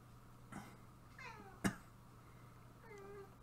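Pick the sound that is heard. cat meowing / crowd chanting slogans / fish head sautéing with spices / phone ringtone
cat meowing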